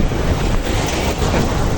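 Loud, steady wind rumbles and buffets the microphone on Demra bridge over a river, with no voices.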